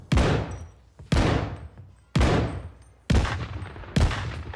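Five heavy gunshot bursts from a Bren light machine gun firing tracer rounds in a shooter video game, spaced about a second apart, each a sharp loud crack with a long ringing tail.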